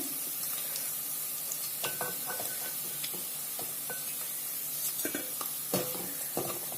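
Crispy fish pieces fry in hot oil, producing a continuous close, bright sizzle with scattered crackles and occasional scraping of a utensil in the pan, with no talking.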